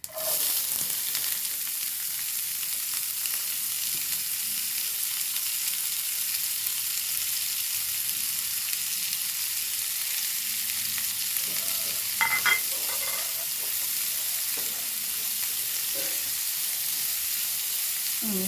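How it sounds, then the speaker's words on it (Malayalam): Amaranth stalks fry in a pan for a shrimp thoran, a continuous close sizzle with intermittent stirring and clinks partway through. "ഇനി ഇതിലേക്ക് ചീരത്തണ്ടാണ് ഇട്ട് കൊടുക്കുന്നത്"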